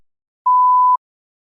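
One clean electronic beep rings out for roughly half a second, steady and isolated, with silence before and after.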